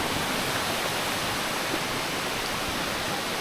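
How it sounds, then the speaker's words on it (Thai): Wang Kan Lueang, a wide, cascading waterfall in a shady forest setting, roars as a steady, dense rush of falling water that fills the scene evenly and continuously. "เป็นน้ำตกลานกว้างเลยครับสวยอยู่"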